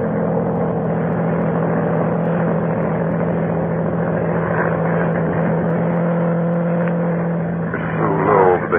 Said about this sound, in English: Down in the south, a monoplane was climbing into the heavens.